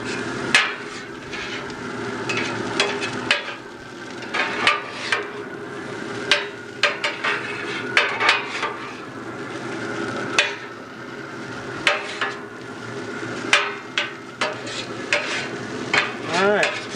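Metal spatula scrapes and clacks repeatedly on a hot BBQ griddle insert while egg is mixed into fried rice, with a steady sizzle underneath and irregular sharp taps throughout.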